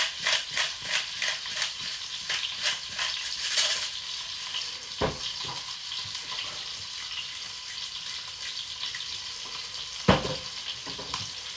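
Steak searing in a pan over heat turned down to medium, a steady close sizzle with crackling pops throughout, a few sharper clicks and clanks breaking through.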